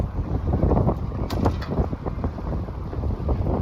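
Gusty outdoor wind rumbles and buffets against the microphone in a continuous loud roar with uneven surges, and no voices are heard.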